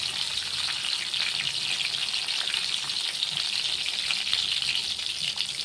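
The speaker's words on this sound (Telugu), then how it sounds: "ఇప్పుడు ఈ వీడియోలో చూపిస్తున్నట్టు ఇలా ఫ్రై చేసుకోవాలండి వంకాయలన్నీ." Stuffed eggplants fry in hot oil in a pan, giving a steady, close, loud sizzling hiss with crackling pops that runs unbroken through the whole stretch.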